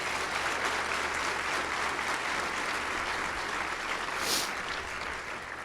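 An audience at a coastal symposium applauds steadily and fairly loudly for about six seconds, a dense even wash of clapping with a brief swell near the end and no talk over it.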